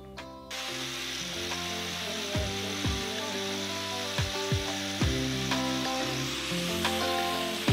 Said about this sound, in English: Drilling and cutting this steel takes some time.